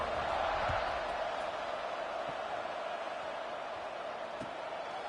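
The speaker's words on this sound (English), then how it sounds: "this crowd is buzzing after that last score" A large stadium crowd at a football game buzzes with a steady, broad roar that holds at an even level, with a few faint thuds underneath.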